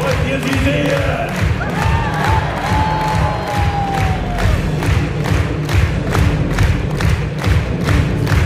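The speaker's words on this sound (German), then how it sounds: "Gebt ihnen Kraft mit eurem Jubel!" A large crowd cheers and shouts at a medieval knight tournament in Kaltenberg, Germany, with a steady roar of voices, rhythmic thumps and whistles carrying throughout, and an announcer's voice over it.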